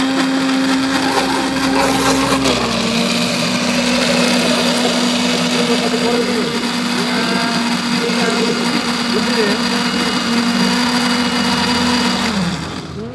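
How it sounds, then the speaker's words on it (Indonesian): A kitchen blender grinds sauce for tahu gimbal in one loud, steady, continuous whir that dips slightly in pitch early on and runs almost the whole time before cutting off near the end. "Sekarang blender ya?"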